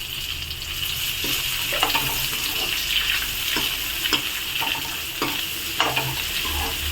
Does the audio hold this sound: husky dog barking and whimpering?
no